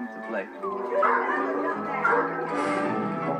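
A dog yips, whimpers and barks excitedly in playful bursts, mixed with people talking nearby.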